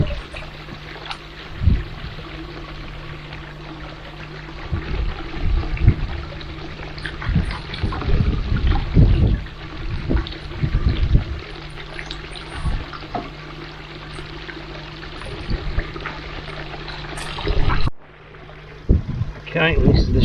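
A 49-centimetre koi is released into a garden pond, with water sloshing and splashing in uneven bursts close by, mixed with rustling handling noise as a person talks over it.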